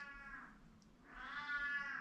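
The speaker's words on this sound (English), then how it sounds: "Oh, don't mind that. It's just the cat." A house cat lets out two drawn-out, wavering meows, the second louder and longer, heard fairly close in a quiet indoor room with no talk.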